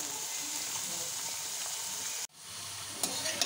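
Beans, capsicum and cabbage sizzle steadily in hot oil, then a sharp break near the middle as vegetables are stirred, after which frying resumes with a few scraping clinks.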